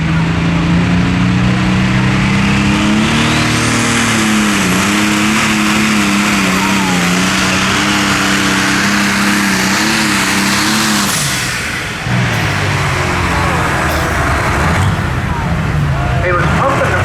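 A modified pulling tractor at a Lucas Oil East Coast Series pull in Kempton roars loudly and steadily, its pitch wavering up and down before dipping briefly near the end, with voices faintly in the background.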